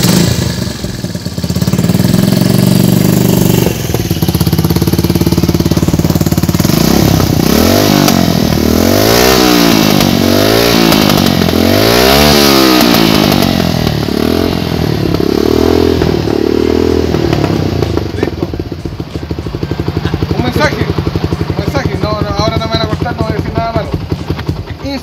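A Yamaha FZ16 motorcycle fitted with a MOA escape exhaust revs loudly and close, its engine swelling and falling in several repeated throttle sweeps through the middle before settling back to a rougher idle.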